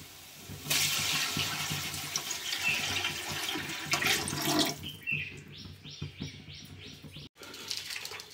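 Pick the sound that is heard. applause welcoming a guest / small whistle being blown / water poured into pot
water poured into pot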